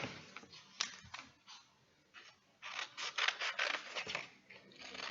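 Scissors cut out a small paper craft shape, close and quiet, with a series of crisp snips and rustling paper in short irregular bursts.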